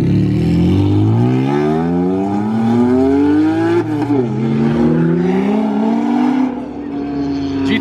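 A Pandem-kitted Porsche pulls away loud and close, its engine climbing through revs as it accelerates, with a brief dip in pitch and then another rising pull, while crowd noise sits faintly underneath.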